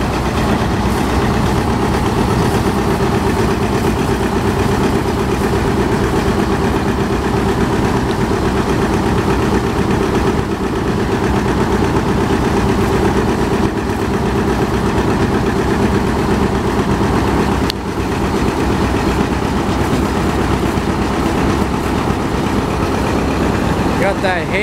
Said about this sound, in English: Got that hay cuber running over here. Sounds like a GM diesel